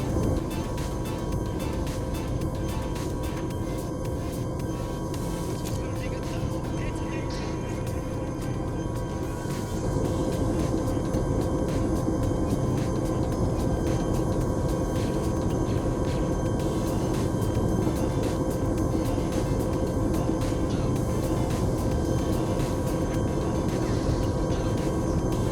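A helicopter in the video game Arma 3 flies with its torque rotor failed, giving a steady, loud, continuous engine and rotor drone that never drops out, with no talk over it.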